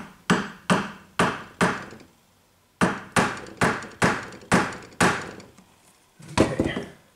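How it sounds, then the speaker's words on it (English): Sharp hammer taps on a Fender guitar's nut to knock it loose, coming in quick bursts of four or five ringing wooden knocks separated by short pauses, close and loud with no talking. "Basically just see if I can tap it a little bit."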